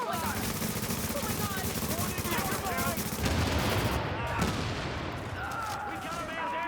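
Dense, loud bursts of automatic gunfire rattle continuously in a game soundscape, with voices speaking under the shooting.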